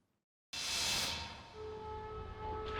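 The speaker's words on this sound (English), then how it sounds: "As air raid sirens ring across Ukraine" Air raid sirens in Ukraine start abruptly with a broad rushing wail that settles into steady, droning tones, sounding distant and sustained.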